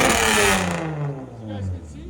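A 1995 Toyota Camry 3.0L V6 with its stock exhaust, not yet straight-piped, rises in a loud rev and then settles back to a lower idle at close range.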